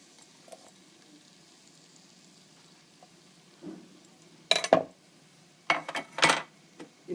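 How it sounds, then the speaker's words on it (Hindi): Onions frying in ghee make a faint sizzle in a pan, broken by a few sharp metal clinks and scrapes of a spoon stirring, loudest near the end. "इसको अच्छे तरीके से थोड़ा सा मिक्स कर लेंगे"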